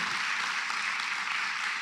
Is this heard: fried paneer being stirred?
no